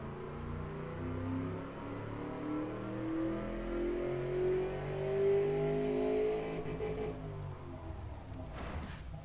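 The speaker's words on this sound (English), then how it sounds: "Let's see how high we can rev this." A simulated 1995 ESE Conqueror Mk II engine of about 384 horsepower in the Automation car game revs steadily higher in one long climbing pitch, then drops off near the end, loud and continuous with no talking.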